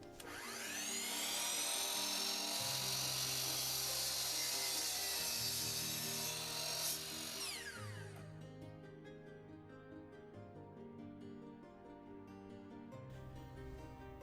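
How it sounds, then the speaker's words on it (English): A miter saw spins up and cuts through plywood with a loud, high whine for several seconds, then the blade winds down and idles to a lower hum, close and without talk. "I'm going to go ahead and use my miter saw and cut 5 pieces"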